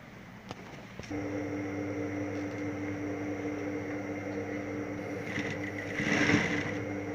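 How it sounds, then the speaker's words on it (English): A sewing machine stitches around the armhole of a denim shirt dress, giving a steady, soft mechanical hum that holds evenly and swells slightly near the end. "So I'm sewing round."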